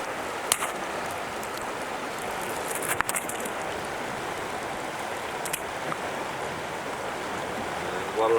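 Steady broadband rush of flowing water as a small creek dam is removed, continuous and even throughout, with a few sharp knocks and clicks on top.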